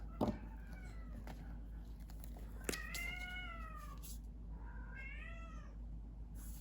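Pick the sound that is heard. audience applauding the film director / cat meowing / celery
cat meowing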